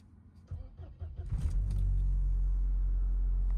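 An old Mercedes-Benz car engine cranks in a few uneven bursts, then catches and settles into a loud, steady, low idle rumble that carries on to the end.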